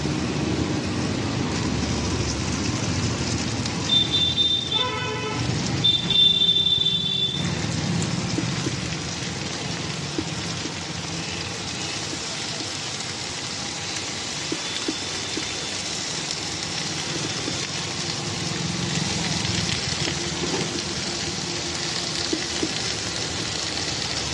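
Cabbage tossed into a hot pan of cooked-down spices for a home-style Bengali vegetable dish, giving a steady, close, rain-like sizzle that holds for the whole stretch, with a few brief clinks partway through.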